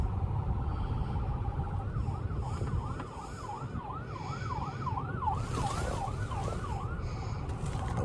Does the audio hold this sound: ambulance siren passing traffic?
yes